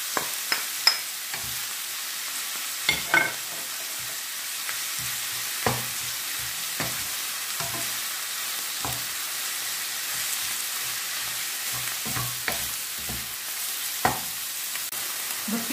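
A garlic clove frying in a pan gives a steady close sizzle, broken by occasional scrapes and taps of stirring.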